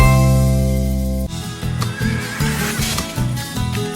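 A horse neighs loudly in a long whinny, then rhythmic hoofbeats and music-like layered sound follow, part of an intro for a Brazilian horse program from Rio Grande do Sul.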